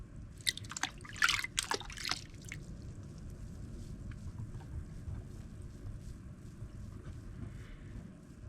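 Water splashes and trickles over grit-covered tumbled rocks during rinsing, with a few close, sharp splashes at first settling into a faint, continuous running trickle.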